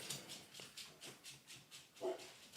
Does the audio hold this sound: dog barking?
yes